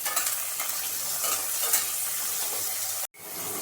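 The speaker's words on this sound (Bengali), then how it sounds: "বেগুনগুলো আমি এই তেলের মধ্যে ভেজে নেব" Eggplant pieces fry in mustard oil in a wok, a loud close sizzle and crackle with stirring scrapes that holds steady, then cuts out abruptly near the end before resuming.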